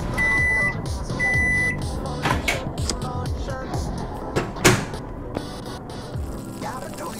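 A microwave oven in Job Simulator VR hums while electronic beeps and tones ring out, mixed with clicks and clunks from the kitchen setting.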